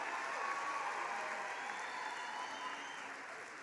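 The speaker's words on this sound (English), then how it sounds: "Please give those graduates a round of applause" A hall full of people clapping for graduates at a graduation ceremony, a sustained even roar of applause that eases slightly toward the end.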